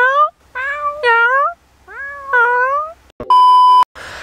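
A person imitates a cat's meow with a series of close, loud, wavering meow calls in quick succession, followed by a sharp electronic-sounding tone and a burst of noise.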